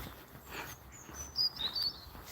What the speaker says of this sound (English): I'm just watching them birds up in them trees.